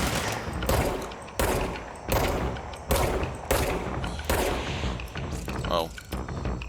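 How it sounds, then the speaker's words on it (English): Rocket-propelled grenades and automatic gunfire in the video game Control come in loud, repeated bursts of rattling fire and booming blasts, separated by short gaps. "thought I heard more rocket-propelled grenades coming my way"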